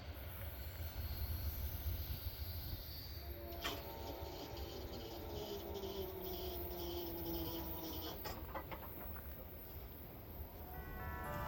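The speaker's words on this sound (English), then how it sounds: "This next train hit right at home." A freight train on the former Delaware and Hudson line rolls past with a long, steady rumble, a faint wheel squeal and rhythmic clicks of cars over rail joints, with insects chirping in the background.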